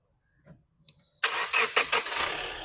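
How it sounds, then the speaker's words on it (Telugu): A 2017 Hyundai Creta 1.4 diesel catches on a single crank after a few faint clicks, then settles into a steady, close, rattly diesel idle with slight rhythmic pulsing. "సింగిల్ సెల్ఫ్ బండి స్టార్ట్ అవుతుంది."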